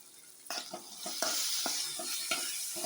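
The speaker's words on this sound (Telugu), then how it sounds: "సాల్ట్ వేసి స్టవ్ వెలిగించి చూడండి బాగా మగ్గబెట్టాలి నూనెలో" Vegetables for a ridge gourd chutney with salt sauté in oil in a pan, a steady soft sizzle with repeated short scraping stirs close by, no voices.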